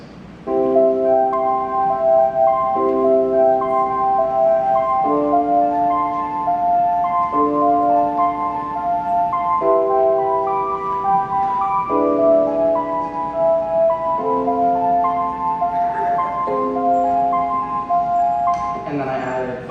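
Home-made synthesized song with a chord progression and an added melodic riff: sustained chords changing every couple of seconds under a brighter, quicker line of higher notes, steady and fairly loud, with no singing or talking.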